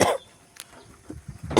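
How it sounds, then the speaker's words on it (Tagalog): Outdoors among backyard chickens, two sharp coughs bracket a quieter stretch of soft shuffling, one opening and one closing, both close and loud. "Ubo na naman tayo."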